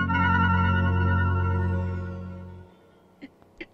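An old landline telephone rings in a sustained, loud electronic tone that stops abruptly, followed by a couple of faint clicks as the receiver is handled.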